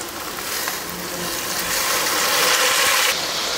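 Onion and mint sautéing in a hot pan for mint rice, a steady broadband sizzle that swells slightly midway and holds close and even, with no voices.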